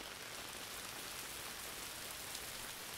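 Steady rain falling outside a tent, a soft, even wash of broadband hiss with no distinct drops, faint and constant.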